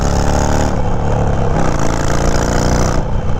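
A Harley motorcycle's exhaust roars close and loud as the bike pulls away, a dense, harmonic-rich engine note that holds steady throughout with a slight pitch shift mid-way.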